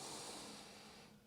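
A single slow exhale through the nose during a yoga stretch, a soft airy breath fading gradually over about a second, quiet and close with no speech.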